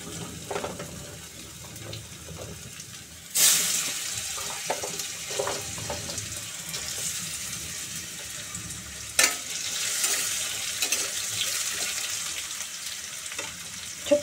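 Diced potatoes and pumpkin dropped into hot oil seasoned with asafoetida, giving a bright, hissing sizzle that swells sharply twice as the vegetables go in and then settles into a steady frying crackle.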